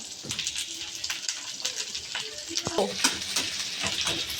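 Whole garlic, whole ginger, dried and green chillies and coarsely chopped onion sizzle in a pan, with steady frying hiss and a few scraping stirs of a spoon, moderately close.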